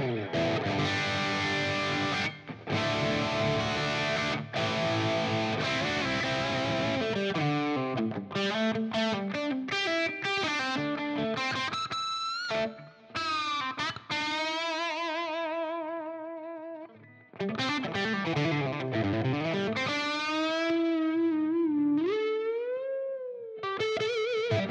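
A PRS David Grissom Tremolo USA Core 10 Top electric guitar is played through heavy distortion, with chords giving way to sustained, bending lead notes and vibrato, loud and continuous with brief gaps.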